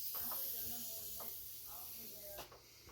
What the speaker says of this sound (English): so I'm spraying the top and the front edge of this bull nose